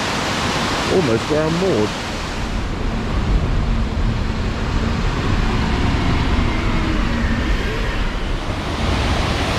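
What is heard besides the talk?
stream flowing under canal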